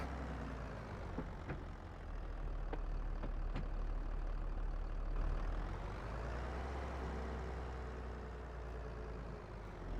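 A tractor engine idles in Farming Simulator 22, a low steady diesel hum with a few short sharp clicks early on and a slight swell in the middle, fairly quiet and with no talk.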